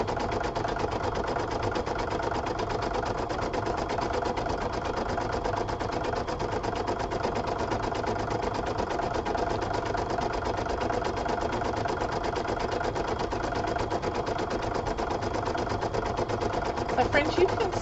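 An embroidery machine stitching a Valentine card design in the hoop, a fast even mechanical clatter running steadily throughout at moderate volume.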